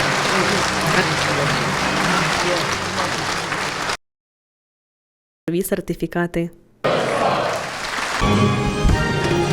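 A hall audience applauds as territorial defence soldiers in Ukraine's Sumy region receive honorary certificates. Steady clapping breaks off into silence, a voice speaks briefly, and the applause then resumes.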